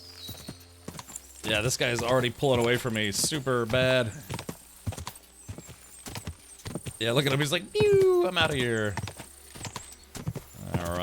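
Hooves clip-clop steadily under continuous excited talk as a horse gallops in a race in Kingdom Come Deliverance 2, with a brief whinny partway through.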